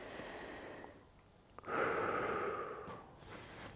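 Close, quiet breathing during a stretching exercise, with soft inhales and a longer audible exhale, like a controlled sigh, heard alone.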